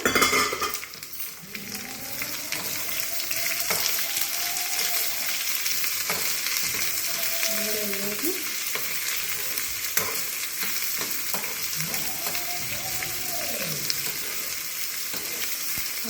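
Steady sizzling of onions frying in hot oil, continuous and close, with occasional stirring scrapes and faint background voices.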